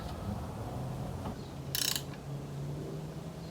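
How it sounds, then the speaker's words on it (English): A 9/16 ratchet wrench tightening a brake booster bracket on a Blazer in a cramped spot, producing a brief, close burst of rapid ratcheting clicks over a low background hum. "with the 9/16 I'm just going to tighten this bracket all the way up"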